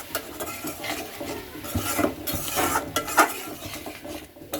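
Meat is put on to cook in a pot, with a scattering of clinks, scrapes and stirring knocks over a low sizzle, close by and uneven in rhythm.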